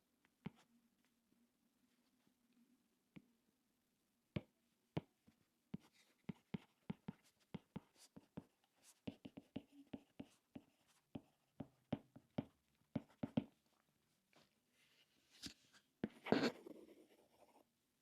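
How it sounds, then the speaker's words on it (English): An Apple Pencil writes on an iPad mini 7 fitted with a Bellemond paper-feel screen protector, making a quiet series of sharp taps and short scratchy strokes in irregular bursts, close up, with a longer scraping stroke near the end. "you can hear a bit of friction against the Apple Pencil"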